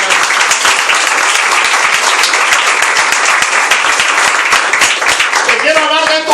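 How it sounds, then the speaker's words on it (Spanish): A church congregation bursts into loud, dense applause, many hands clapping steadily from near and far, with cheering voices mixed in and a brief sung or shouted voice rising near the end. "Dale un aplauso al Señor"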